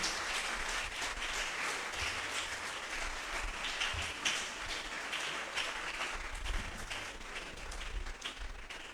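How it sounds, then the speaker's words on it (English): A large audience at a national quarter-final competition claps steadily as teams walk up on stage, a continuous, even wash of applause heard from within the crowd. "Please don't stop clapping till they get here."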